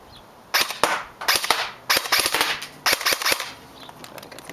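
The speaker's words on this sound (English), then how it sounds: "BTC Chimera is a kind of a pain to get into the stock, so I'll just shoot it on semi." A BTC Chimera airsoft electric gun fires on semi-auto, giving a series of sharp snapping shots spaced irregularly in small clusters, close and fairly loud against a quiet background.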